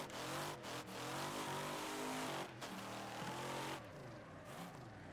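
A car drifts in the racing game Wreckfest, its engine revving hard and wavering in pitch with faint tire noise, loud and continuous for a few seconds.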